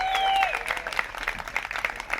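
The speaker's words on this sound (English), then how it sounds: "Let's get a big round of applause, please," Wedding guests clapping for the best man after a toast, a brief burst of scattered applause with audible individual claps, following a fading tone.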